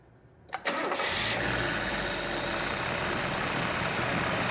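A car engine cranks and catches about half a second in, then settles into a steady, loud idle near 600 RPM with constant rumble and no talk, in a garage during an electrical charging check.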